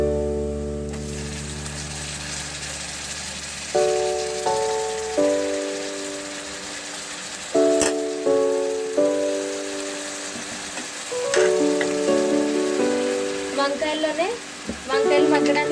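Brinjal and prawns fry in masala-spiced oil, giving a steady crackling sizzle that runs beneath louder background music for the whole stretch.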